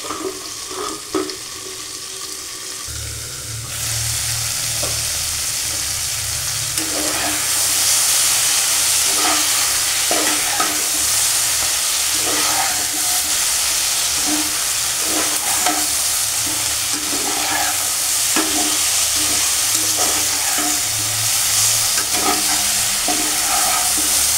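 Beans and potatoes frying with tomato and green chilli for a Bengali mustard charchari, a strong continuous sizzle and hiss after a quiet start, with a spatula scraping and stirring the pan at intervals.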